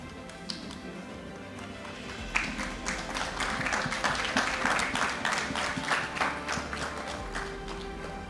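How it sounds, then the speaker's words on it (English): Applause from an audience at a football association awards ceremony swells in after a quiet start, a sustained patter of many claps at moderate distance lasting several seconds. "Let's give them a round of applause for their hard work, of course, and determination."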